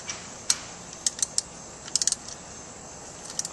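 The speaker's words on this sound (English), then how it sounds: "Set my ratchet to tighten." A ratchet tightening a part during a tune-up on a 1991 Jeep Wrangler YJ, with scattered quick clicks in small bursts, close and fairly sharp against a quiet background.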